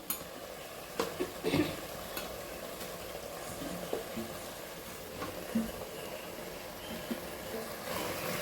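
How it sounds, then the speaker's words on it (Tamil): Coriander and mint are stirred into frying chicken biryani masala, giving a soft ongoing sizzle with scattered scrapes and clinks of a spoon against the pot, no talking. "இப்போ கொத்தமல்லி புதினா போட்டுக்கலாம்"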